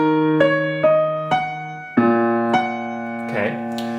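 Piano notes from a song struck one after another in a steady, moderate rhythm, each ringing out before the next, played alone with no talking.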